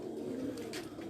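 Pigeons coo softly and low, a faint murmuring call under quiet ambient hum, with a brief brighter chirp near the end and no voices.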